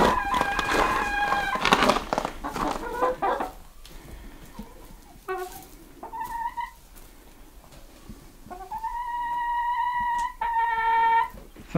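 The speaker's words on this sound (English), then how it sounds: "the chickens were in fine spirits in the shed" Hens cluck and squawk in a busy, close chorus inside a shed in freezing winter, with a few drawn-out calls rising above the chatter and brief pauses between bursts.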